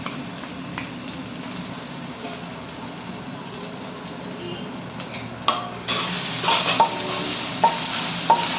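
Ginger-garlic paste hits hot oil for veg hakka noodles, a continuous sizzle that flares when stirred, with sharp spatula scrapes and clinks against the pan in the second half.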